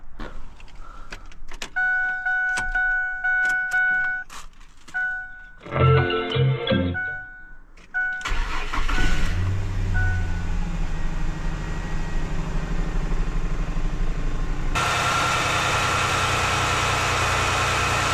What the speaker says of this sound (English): So let's fire up this engine.